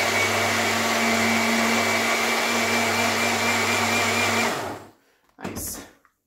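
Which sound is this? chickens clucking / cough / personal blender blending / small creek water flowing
personal blender blending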